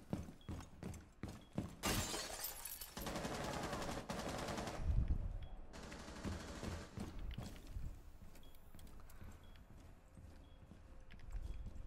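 Rapid bursts of gunfire and crashing impacts from a Rainbow Six Siege match fill the scene, with dense, overlapping shots that are loud at first and then settle into a busier, softer clatter.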